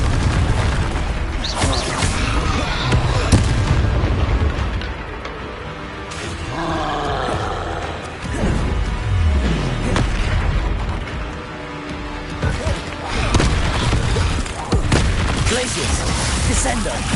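Repeated blast spells from Hogwarts Legacy go off as booming explosions and crackling bursts over a dense, roaring game soundtrack, with shouted spell voices in between.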